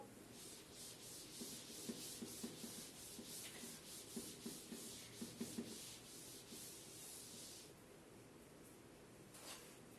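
A duster rubs across a classroom board in quick back-and-forth strokes, a soft rhythmic scrubbing swish with light taps as it is wiped clean, faint and steady.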